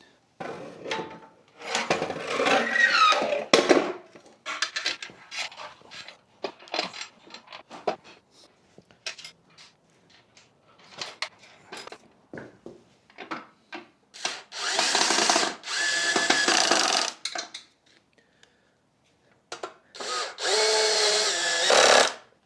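A power drill tightens bolts on an electric bicycle rack with ramp, giving two loud, close whirring bursts near the end. Quieter clicks, rubbing and handling noises of metal parts come before them.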